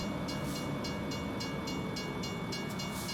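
A passing train in American Truck Simulator gives a continuous rumbling roar with an even, repeating clickety-clack of wheels on rail joints, fairly close and with no voices.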